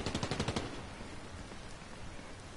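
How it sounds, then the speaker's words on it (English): A rapid burst of automatic gunfire in Fortnite crackles for about half a second, then fades into a low, noisy background rumble. "I knew I heard gunshots."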